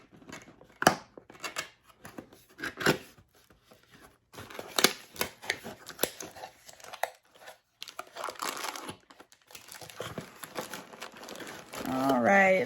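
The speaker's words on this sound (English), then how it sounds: "I'm just gonna bring it down and we're gonna unbox it" A boxed item bought at Hobby Lobby is unpacked. Close crinkling of packaging and snipping cuts come in uneven bursts with quiet pauses, and the rustling grows louder near the end.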